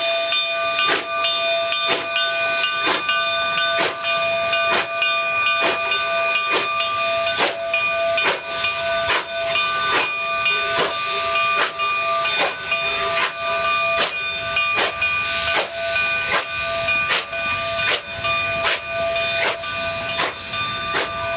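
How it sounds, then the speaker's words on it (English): A narrow-gauge steam locomotive stands hissing while it takes on water at Cumbres before a brake test, with a continuous steady hiss and regular sharp metallic clanks repeating about every second. "the locomotive will take on water, and the train will have the requisite brake test performed"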